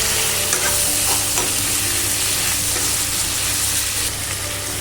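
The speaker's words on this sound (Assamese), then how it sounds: "আলু কেইপিচ দিয়াৰ পাছত মই আকৌ এনেদৰে লৰাই অলপ দেৰি ভাজি ল'ম" Chicken pieces and potatoes frying in a pan with steady, close sizzling throughout, broken by repeated scraping and stirring strokes of a utensil.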